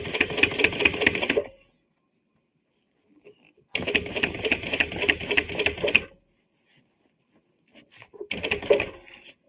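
A domestic sewing machine stitches in three loud bursts of rapid mechanical chatter, separated by near-silent pauses when the pedal is released; the last burst is shorter.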